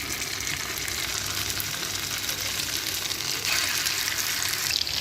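Loud, steady sizzling of chicken seekh kebabs shallow-frying in hot oil, a continuous crackle that swells slightly partway through.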